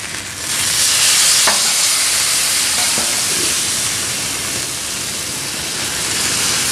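Red squirrel meat sizzles loudly in a hot pan, a continuous hissing fry with a couple of faint clicks as the pieces are flipped, and the sizzle swells slightly after each turn.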